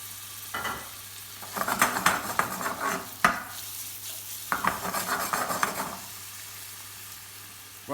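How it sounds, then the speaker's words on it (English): Chilli and apples frying in hot oil, with bursts of loud sizzling and clattering stirs of a utensil against the pan, separated by quieter pauses. "Once the oil heats up a little, we're going to go in with the chilli just to start that cooking off. And we're going to go in with the apples as well."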